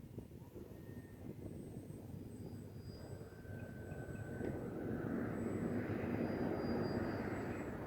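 A model Pitts airplane engine drones at part throttle, a steady buzzing whine from an aircraft in flight, moderately distant and slowly growing louder with no talk.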